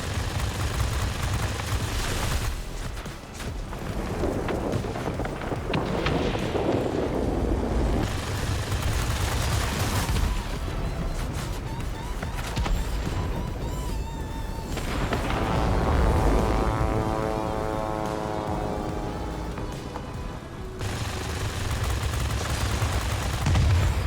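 Fighter planes roar and guns fire through a dogfight in a flight combat video game, a dense continuous wash of engine drone and rattling bursts, with a rising whine toward the end.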